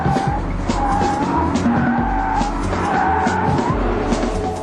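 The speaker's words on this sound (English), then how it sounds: "With its stability control shut off, the rear drive M5 offers some great drift." Tires squeal in long, wavering skids as a rear-drive BMW E39 M5 drifts with stability control off, over a revving engine, loud and continuous with a rising and falling pitch.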